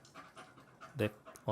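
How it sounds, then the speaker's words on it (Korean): A recorded dog panting, played from an audio file through a web audio player, with quick rhythmic breathy pants repeating close and fairly loud, ending in a few stronger huffs. "강아지 소리입니다."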